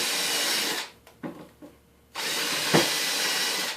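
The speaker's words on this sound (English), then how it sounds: "the reason I'm pre-drilling is because it'll suck this plywood up to the other plywood way better" A power drill pre-drilling through plywood for a bay window build, two loud whirring bursts at the start and end with a quieter gap and faint knocks between them.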